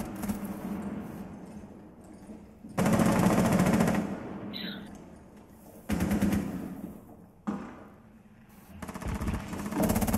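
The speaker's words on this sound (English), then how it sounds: "Shooting at this window over here" Bursts of loud automatic gunfire in a multiplayer shooter game, three long blasts separated by quieter gaps with background ambience, plus a short sharper burst in between.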